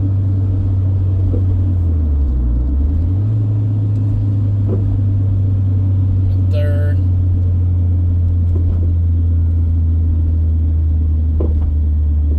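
Deep exhaust rumble from a stock first-generation Honda CR-V with a Yonaka catback exhaust, downshifting as the engine drops in pitch and then steadies again, loud and close, with no talking.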